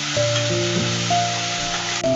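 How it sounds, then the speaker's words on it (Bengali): Ginger garlic paste frying in hot oil for a chicken wings curry gives a continuous, fairly loud sizzle, with soft background music under it. "দেখতে পাচ্ছেন আদা রসুন গুলো সুন্দর মতো ভাজা ভাজা হয়েছে"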